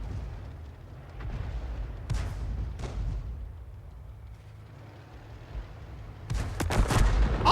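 Tank guns firing in World of Tanks, a few distant booming shots over a low engine rumble, then a louder burst of blasts and an explosion near the end.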